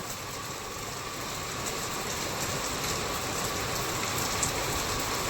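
Heavy rain pours down in a dense, steady hiss that fills the scene evenly from start to end, with no voices.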